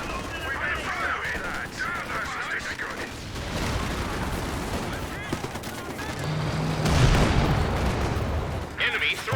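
Battle din in Company of Heroes 2, a 2v2 World War II strategy match with machine guns and infantry: constant rumbling gunfire and explosions fill the mix while a commentator talks over it.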